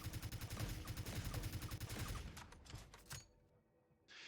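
Rapid gunfire in the video game Apotheosis X, shooting at a switch: a dense, loud, unbroken burst of shots for about two seconds, then scattered single shots and a few trailing ones, with no talk.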